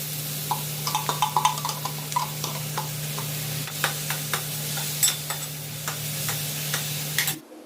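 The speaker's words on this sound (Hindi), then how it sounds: "तो अब समय था कि मसालों को भून लिया जाए।" Onion and spices fry for a gravy in a pan, with a steady sizzle and irregular stirring clicks over a low constant hum, ending abruptly.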